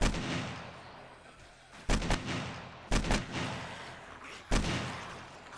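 Gunfire in the video game 7 Days to Die, Alpha 15, during a day-49 horde: four sharp, heavy shots at irregular intervals over a steady noisy background, fairly loud and close.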